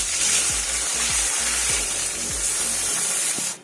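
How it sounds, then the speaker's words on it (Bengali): Bhola fish curry in a mustard and poppy seed paste sauce simmering in a pan, a steady close sizzle and bubbling hiss with faint rhythmic low knocks, no talking. "এখানে বেশ সুন্দর ঝোলটা ফুটে উঠেছে"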